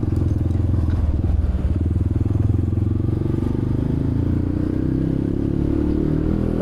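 A motorcycle climbs a steep uphill road near Gunung Salak, its engine droning loud and close under strain with a steady low rumble, rattling slightly, pitch creeping upward as it labors.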